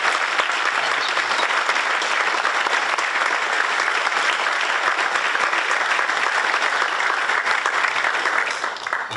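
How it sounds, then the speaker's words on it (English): Audience at a public service recognition ceremony applauding honorees, steady dense clapping from a large crowd that holds for several seconds, then tapers slightly at the end. "let's give everyone a nice round of applause for their dedication"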